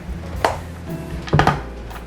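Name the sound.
chopping chocolate chunks for brownies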